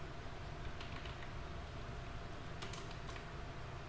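Soft, faint clicking of a computer keyboard while text is typed in PowerPoint, scattered keystrokes over a steady background hiss.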